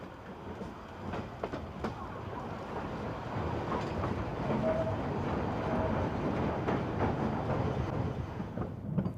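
Cumbres & Toltec Scenic Railroad train running along tracks by Toltec Gorge, a steady rumbling roll with faint clickety-clack of wheels on rail, continuous and fairly close throughout, with no talking.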